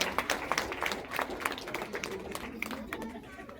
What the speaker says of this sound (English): Everyone, clap for Liam.